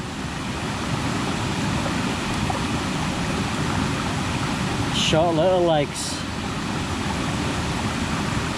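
Waterfall in Gunung Gading National Park, Sarawak, a steady broadband rush of falling water that fills the scene at close range and continues evenly, with a short burst of speech near the middle.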